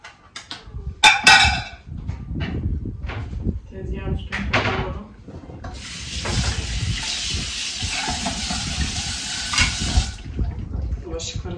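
Water runs from a sink tap during washing for several seconds, a steady close hiss, with clattering and a woman's speech before and over it.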